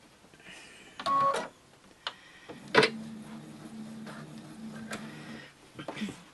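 Sewing machine stitching a line of fabric: a short clatter of handling, then a close, steady motor whir running for about three seconds, with scattered clicks around it.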